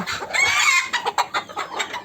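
European Silkie chickens cluck and chatter close by in a short, busy burst of overlapping calls with no talking.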